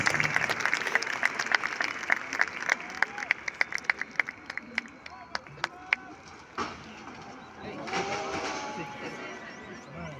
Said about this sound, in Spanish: ¡A fuerte el aplauso, chiquillo,